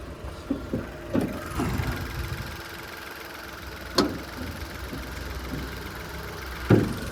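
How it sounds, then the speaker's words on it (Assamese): A Nissan Magnite XV Turbo idling with the bonnet open, a low steady engine hum with a few louder knocks and clunks nearby. "গাড়ীখন ষ্টাৰ্টেই হৈ আছে তো মই তেনেকৈ ইঞ্জিনটো আপোনালোকক আগতে দেখাই দিওঁ"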